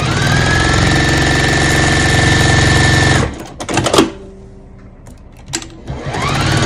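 A sewing machine running continuously and loudly for about three seconds while stitching quilting lines beside seams on fabric at a set stitch length, then stopping abruptly, followed by a few quieter handling clicks and knocks.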